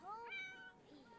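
A cat in the video game The Sims 4 gives a short rising meow with a second softer tail, clear and close, alone over a quiet background.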